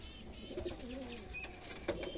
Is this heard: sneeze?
no